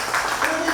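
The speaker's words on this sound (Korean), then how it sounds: "박수 한번 칩시다 이게" Audience at an inauguration ceremony in Daejeon breaks into brief applause, a quick burst of many hands clapping, with a faint voice mixed beneath.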